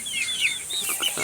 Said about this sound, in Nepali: यो चाहिँ भाले हो